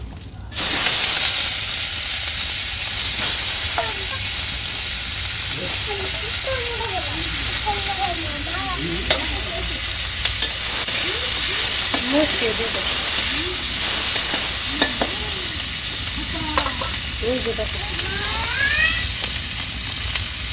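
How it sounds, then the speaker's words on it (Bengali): Onions drop into hot oil with cumin seeds and bay leaves for a village-style egg curry, giving a loud, steady hiss and sizzle throughout while a person talks over it. "আমি জিরা আর তেজপাতা দিয়ে দিছি তখন পেঁয়াজগুলো দিয়ে দিই"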